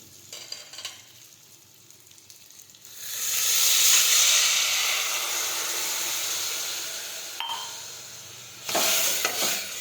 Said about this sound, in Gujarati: હવે આપણે થોડું પાણી ઉમેરીશું